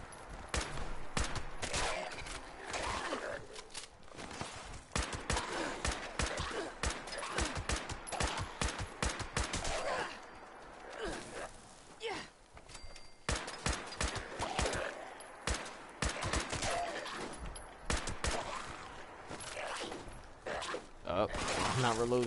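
Rapid bursts of video game gunfire crackle in quick volleys, including what sounds like automatic weapon fire, with someone talking over and between the shots.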